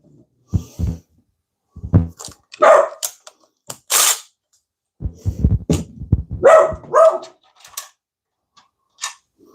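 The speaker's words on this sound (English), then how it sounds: "My dog's going to bark." A dog barks in several separate bursts across the scene, loud and close, with gaps of quiet between them, heard during a home job of wall-mounting a TV.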